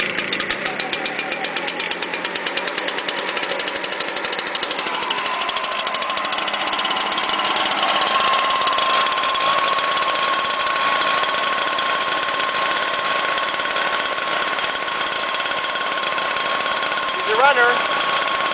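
Small two-stroke engine of a string trimmer or blower, on choke, sputtering through rough firing and then settling into a loud, steady high-pitched drone that holds for the rest of the run, with brief speech early on.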